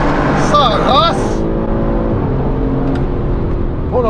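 An Audi RS5-R ABT with a V6 pulls hard in a tunnel, a strong, sustained engine drone with rising tones; voices exclaim over it at times.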